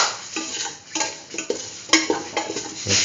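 A utensil stirs curried beetroot mung beans in a pan with close, irregular scraping and clinking strokes over a faint sizzle, heard alone without talk.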